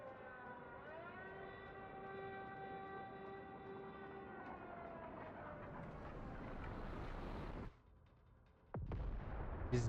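Inside the Delta Force shooter game, a wailing air-raid siren sweeps across the soundscape as a deep boom of an exploding bomb rumbles underneath, followed by a sudden drop, then another burst of blast noise.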